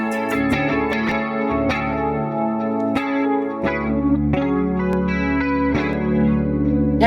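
An electric guitar plays through a Hotone Ampero multi-effects patch in a home recording. Chorus and distorted tones ring out in sustained chords, with several sharp strummed attacks over seven seconds, loud and upfront, no voices.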